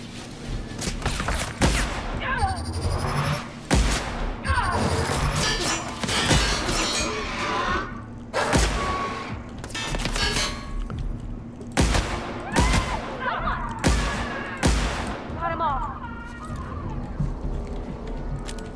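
Rapid bursts of gunfire from a weapon in The Outer Worlds, a video game, sharp loud shots repeating in clusters across the scene with impacts and crashes between, no talking.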